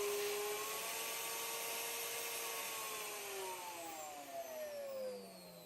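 The spindle of a NymoLabs NBS-6040 CNC router runs as a faint, steady high-pitched whine, with tones slowly sliding in pitch as its speed shifts, no voices.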